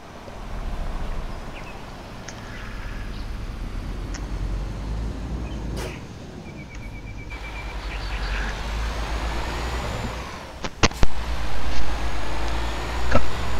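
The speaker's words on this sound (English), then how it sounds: "I should start the engine." A truck's engine in Euro Truck Simulator 2 on a Russian open-spaces map drones loudly and steadily, then clicks and a hissing air-brake burst come near the end.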